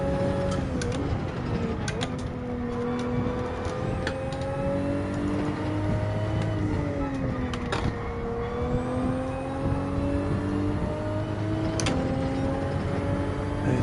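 A Toyota Supra Gr4 race car in Gran Turismo 7 at the Nürburgring GP circuit, its engine droning steadily with rising and falling pitch through gear changes and bouncing off the rev limiter, continuous and close throughout.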